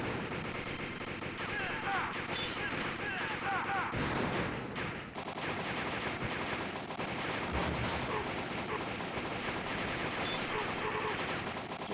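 Relentless gunfire and explosions in the arcade shooter Operation Night Strikers roar loudly and continuously, with rapid automatic fire layered over booming blasts that fill the whole stretch.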